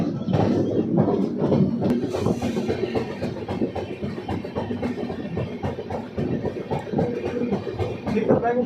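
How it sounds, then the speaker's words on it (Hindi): Azimabad Express pulling out of Silao station, with steady clickety-clack of wheels on rail joints and a loud, continuous rolling rumble from close by, voices talking faintly underneath. "आधे घंटे रुकने के बाद हमारी ट्रेन अब निकल चुकी है सिलाओ से"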